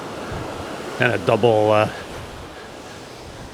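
Ocean waves surge and wash steadily onto a Cayo Santa Maria beach near two gaps in the coral, a broad continuous roar with a brief spoken phrase over it partway through.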